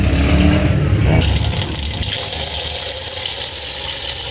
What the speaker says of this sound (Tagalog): Hugasan natin ito